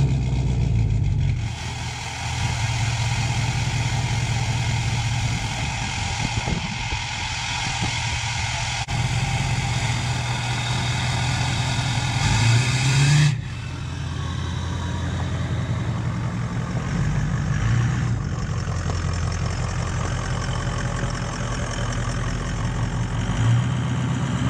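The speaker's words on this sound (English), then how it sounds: "So let's get the truck moved." A truck engine runs steadily the whole time as the truck is being moved, a constant mid-pitched rumble that shifts slightly in tone now and then, with no talking.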